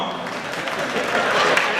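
Audience applause at a Hindi comic poetry gathering (hasya kavi sammelan), a dense steady wash of clapping sustained through the short stretch, fairly close and even.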